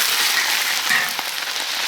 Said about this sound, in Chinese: 烧热，下入鸡块，